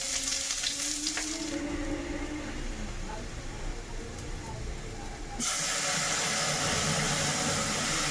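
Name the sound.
tempering lentils with cumin and chopped onion, frying sizzle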